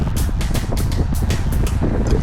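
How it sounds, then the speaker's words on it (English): Strong wind buffets a cyclist on the road, a loud, steady roaring rush with gusty pulses across the whole stretch, no talking. "So it's very windy"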